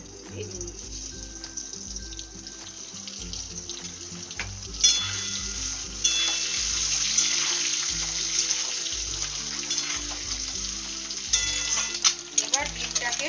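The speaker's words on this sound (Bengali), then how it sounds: "এবার আস্তে আস্তে ডিমগুলো ভেজে নিচ্ছি।" Eggs frying in hot oil in a wok, a continuous bright sizzle that swells louder midway, with crackles and scraping stirs, a low rhythmic hum beneath and a few small clatters near the end.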